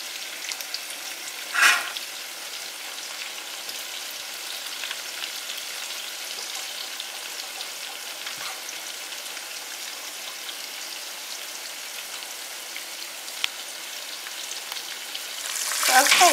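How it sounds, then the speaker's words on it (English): Chicken fingers sizzle and crackle steadily in a hot pan, a continuous bright frying hiss with a few louder pops, no talking. "I'm just going to continue to spread the rest of my chicken as I'm frying"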